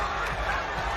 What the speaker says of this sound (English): the crowd going crazy here for Demian Maia.